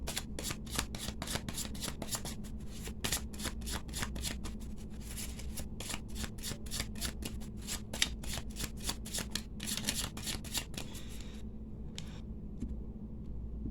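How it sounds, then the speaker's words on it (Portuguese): Gypsy oracle and tarot cards being shuffled and cut by hand, a long run of rapid crisp riffling snaps in quick rhythm, close and clear, easing off into a few sparse taps at the end. "Embaralhei, cortei,"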